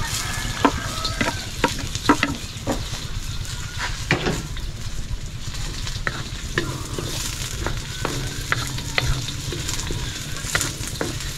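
Onions frying in a pan for adobo, a steady close sizzle broken by repeated sharp scrapes and clacks of a utensil stirring the pan.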